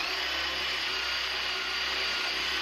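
A power drill boring into a wooden board with a Forstner bit, a steady loud whirring grind held throughout, close and alone with no talk.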